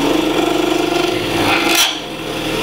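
A wood lathe spins as a negative rake cutter shaves the turning workpiece, giving a steady, dense rasping whir with a faint rhythmic flutter, loud and close, and the pitch briefly shifting near the end.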